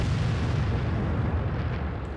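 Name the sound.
artillery shell explosion in the video game World of Tanks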